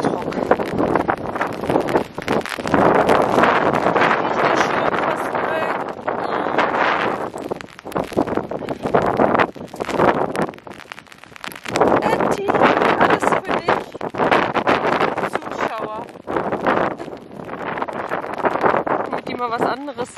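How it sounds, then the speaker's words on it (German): Strong, gusty storm wind during a walk in bad weather, buffeting the microphone in loud, roaring bursts with brief lulls. People talk throughout. "Boah, ist das windig. Windig und stürmisch."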